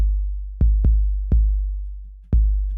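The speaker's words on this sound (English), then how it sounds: "So I put some saturation. It sounds like this" A saturated 808 bass from an FL Studio production of a song strikes four times, each hit a loud, deep booming note with gritty harmonics that slowly decays, heard on its own with no talking.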